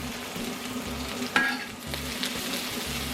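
Bacon-wrapped hot dogs sizzle in a pan, a steady close-up frying hiss broken by a sharp scrape of stirring partway through.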